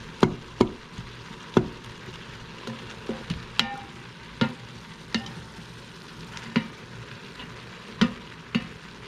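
Chopped celery sautéing in an Instant Pot, a quiet steady sizzle broken by repeated sharp knocks and scrapes of a utensil against the pot at irregular intervals.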